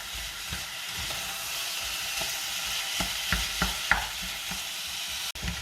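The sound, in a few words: stirring minced meat with onions frying in a pan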